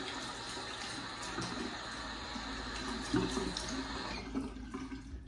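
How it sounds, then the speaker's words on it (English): Water splashing at a bathroom sink as a face is rinsed after a shave, a steady running tap with scattered close splashes and cupped-hand sloshes, moderately quiet throughout. "I'm gonna rinse the face."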